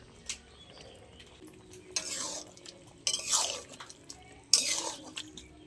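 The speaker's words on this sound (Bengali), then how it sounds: "ভালো করে একটু ঘিটা মিশিয়ে দেবো তরকারির সাথে" Ghee being stirred into a mixed vegetable curry in a home kitchen: faint background sounds broken by three scraping stirs of a spoon against the pot, each lasting under a second.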